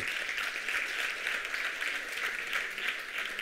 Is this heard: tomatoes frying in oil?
no